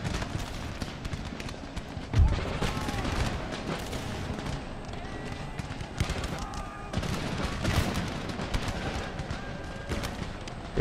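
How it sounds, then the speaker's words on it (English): Cannons boom in a battle in the strategy game Empire: Total War, scattered shots and crackling volleys overlapping through the clip, with two heavier low thuds standing out amid the dense gunfire. "There go the first shots from our cannons."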